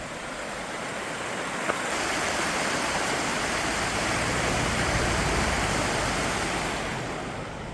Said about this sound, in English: Let's just get you some shots of the Loyalsock Creek.